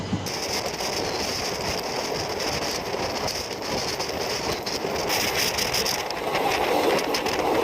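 Moving train on the railway, heard from aboard: a constant loud rush and rumble of wheels and carriage noise, steady throughout with a high whine above it.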